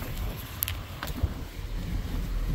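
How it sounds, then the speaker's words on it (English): Wind buffeting a microphone outdoors on a farm in March snow country, a low, steady rumble with a few brief gusts and clicks, fairly quiet throughout. "sorry about the wind."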